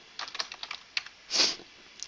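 Quick, irregular keystrokes on a computer keyboard as an email address is typed, close and fairly quiet, with one louder, longer clack partway through and no talking.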